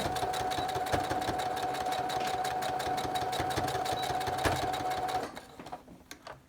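A sewing machine stitches elastic onto the hem of a fabric mask, running in a steady, rapid mechanical rhythm for about five seconds and then stopping, leaving a few scattered clicks.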